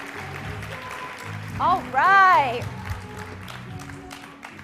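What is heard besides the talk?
audience applause at a conference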